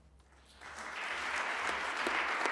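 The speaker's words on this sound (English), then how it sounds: "We ask for applause for Kinga Kitty Bohush." Applause from a graduation audience at FHWien's 2021 executive management ceremony, swelling gradually from near quiet into a steady wash of many hands clapping.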